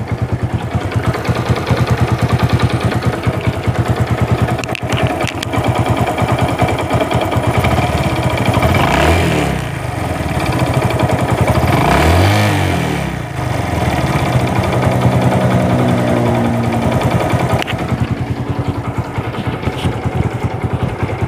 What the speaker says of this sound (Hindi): तो इसके अंदर आवाज़ आ रही टाइमिंग चेन